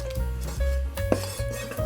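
A knife chops three spring onion stems on a board for a Vietnamese braised beef dish, a few close, sharp knocks and clinks of blade against wood with brief scraping between them, no voices.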